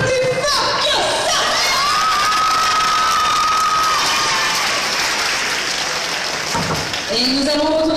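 Loud audience applause and cheering at a cosplay contest, a thick sustained roar of clapping with shrill shouts and whistles from the crowd, holding strong across the whole stretch.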